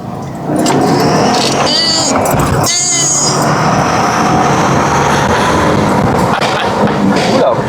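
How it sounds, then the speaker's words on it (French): Subaru Impreza WRX accelerating hard with a loud, close engine roar and rising revs, a turbo dump valve hissing at the gear changes, while people talk over it. "la sacro-sainte dump valve, histoire d'entendre le petit psh à chaque fin d'accélération"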